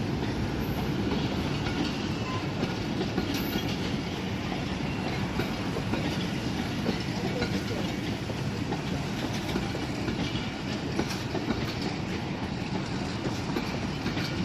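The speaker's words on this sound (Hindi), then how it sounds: "रात के सन्नाटे में हिटाची की चगिंग साउंड और लाइट्स अमेजिंग होती हैं" A Hitachi locomotive of Pakistan Railway running at night on a branch line, a steady, loud rumble with rail clatter and engine chugging that continues for the whole stretch, with no talk.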